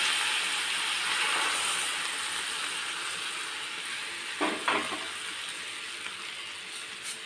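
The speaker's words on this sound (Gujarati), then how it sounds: "તડકાને આપણે સીધી જ જે આપણે લસણની ચટણી ખાંડેલી છે એમાં આપણે એડ કરીશું" Hot oil tempering with asafoetida poured over pounded garlic chutney gives a steady, broad sizzle throughout, with a couple of brief sharper crackles midway.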